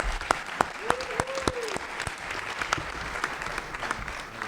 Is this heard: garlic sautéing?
no